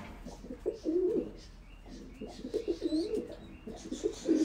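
Pigeons coo in a loft in a series of soft, throaty calls, close by and fairly quiet, with faint chirps in the background and no talking.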